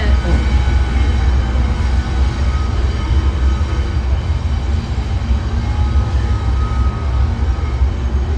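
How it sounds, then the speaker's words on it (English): A long train rolls past close by, a steady loud rumble of wagons with rail clatter and faint whistling tones throughout, heard alone. "I have no idea how long this train is supposed to last"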